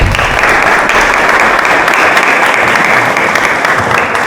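Loud, full audience applause at a lecture in a church in Toledo, a continuous dense roar of clapping at a steady level from start to finish.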